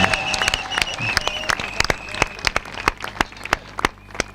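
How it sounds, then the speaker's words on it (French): A church congregation at an evening healing service claps and cheers, with sharp, uneven handclaps ringing out over a lively crowd and voices. "quand tu acclames, tu célèbres la délivrance de ton frère"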